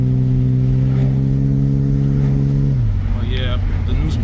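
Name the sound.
car engine revving and accelerating after tune-up with new spark plugs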